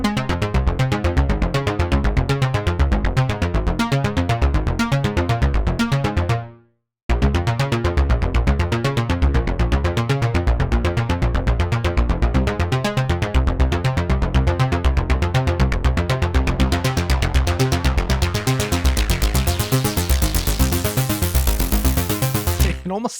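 Cherry Audio's Atomika, a Polivoks synthesizer emulation, plays a sound-effect patch: a dense, loud, throbbing pulse that drones almost nonstop, with one brief silent break, and the texture grows harsher and brighter toward the end.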